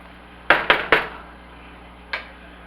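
Dumplings go into a pot of beef and dumplings with a spoon: three quick metallic clanks in close succession, then a pause and one more clink against the pot, close and clear with no talking.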